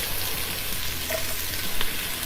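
Garlic sizzling steadily on a hot Blackstone flat-top griddle, a continuous close, even hiss of frying with no voices over it.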